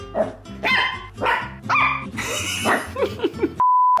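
A lively young puppy yaps and yips in short, close bursts with a few higher whimpering squeaks, followed by a steady electronic tone at the end.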